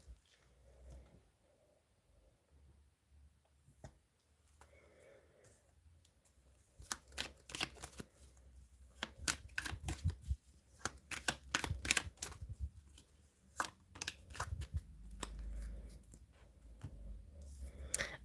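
Tarot cards being shuffled and drawn during a card reading, with soft rustling at first, then a long run of sharp, rapid riffling flutters and snaps, close and fairly quiet.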